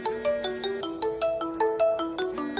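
A mobile phone rings for an incoming call with a loud, bright electronic melody of quick repeating tones and no voices over it.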